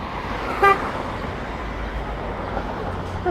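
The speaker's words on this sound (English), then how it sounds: "That car just honked at me." Car horn honking twice on a downtown Toronto street on a late afternoon, a short toot near the start and another brief beep at the end, over steady traffic hum.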